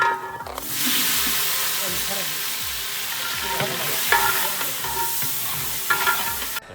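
Chopped tomatoes are stirred into a large deg of rice cooking over a village wood fire, giving a steady loud sizzle and frying hiss with rhythmic scraping stir strokes throughout.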